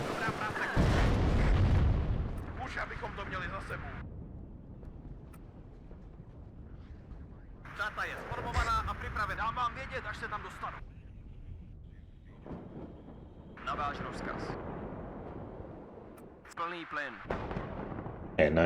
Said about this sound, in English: Cannon battery did its job.